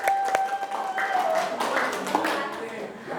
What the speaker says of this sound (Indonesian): Oke, ayo tepuk tangan dulu.